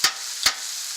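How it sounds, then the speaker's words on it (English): Steak fajita meat hitting a hot Blackstone griddle twice in quick succession, each contact sharp and loud, followed by a steady hissing sizzle, with no talking. "Listen to that sizzle,"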